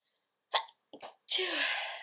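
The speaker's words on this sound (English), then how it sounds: "I have to sneeze." A short breathy intake, a catch, then one sharp loud sneeze that trails off, up close and isolated.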